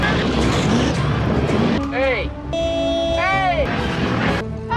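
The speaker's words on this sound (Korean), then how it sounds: "검은 자동차가 나타나 학생을 위협합니다." A black car drives in a dramatic film scene, its engine rumble and passing motion running steadily under a loud voice, with swooping musical tones and effects layered on top.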